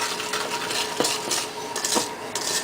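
Clafoutis batter stirred briskly with flour in a bowl: steady scraping and rubbing of a utensil against the bowl, with a few sharper taps, close and moderately loud, no talking.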